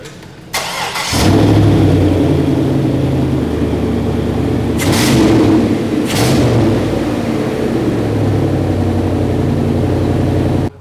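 An engine cranks and catches, then runs at a steady rumble, revving briefly twice before settling back to idle. Loud and close, no talking.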